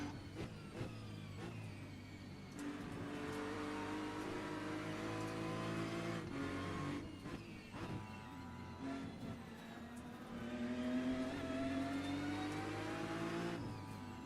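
Several race car engines in a racing video game roar and whine continuously on the Nordschleife, pitch rising and falling as they accelerate and shift, with no talking.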